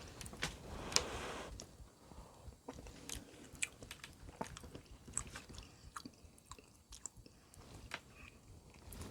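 Close, quiet chewing and biting of a rehydrated Mountain House cheesy beef enchilada bowl with tortilla and meat: soft crunches, clicks and moist mouth sounds in an irregular rhythm over a faint room background.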